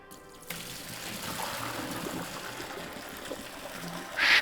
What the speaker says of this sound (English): Now we are going to drain the noodles.